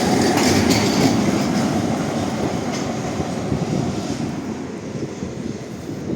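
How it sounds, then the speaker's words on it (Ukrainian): A tram rolls along a street in central Lviv at night, a close steady rumble with rail noise that slowly fades as it moves away. "Трамвай двічка проїде."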